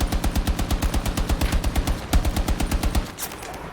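Rapid automatic gunfire rattles in a fast, even, loud burst in the video game Battlefield 2042 Portal, set in Battlefield 1942. It stops abruptly near the end, and a single sharper crack follows.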